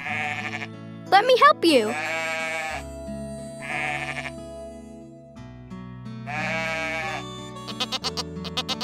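Sheep at a farm animal sanctuary bleat several times, loud and close, in separate drawn-out calls with a short shaky cry early on; a person speaks briefly.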